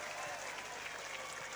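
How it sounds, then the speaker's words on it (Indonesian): A crowd at a college anniversary gala night in Majene applauds, a steady, dense patter of clapping that holds evenly from start to finish, moderately distant and without pause. "Tepuk tangan dulu untuk kita semua."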